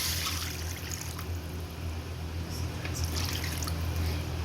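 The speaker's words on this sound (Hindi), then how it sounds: "और हम इसमें डाल देंगे पानी" Water is poured into a kadai holding mutton, making a continuous close trickling and splashing sound that runs evenly from start to finish.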